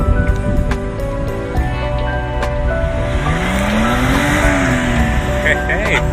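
A car pulling a stuck truck free, its engine droning loudly and rising in pitch midway as it strains, with people talking over the steady vehicle noise.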